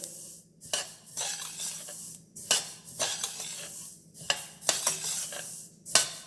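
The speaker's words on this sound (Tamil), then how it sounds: "பாருங்க, இந்த மாதிரி வறுத்துக்கணும்." Black sesame seeds roasting dry in a pan for laddu, stirred with a utensil that scrapes and clinks against the metal in irregular bursts, close and fairly quiet, with no voices.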